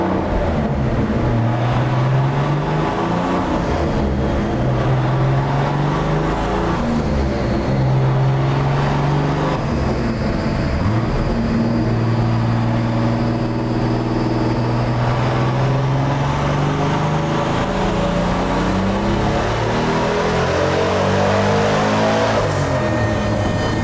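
Turbocharged L28 engine in a Nissan 240Z revving hard and close up, with repeated rising and falling rev sweeps building to a long high-rpm pull near the end.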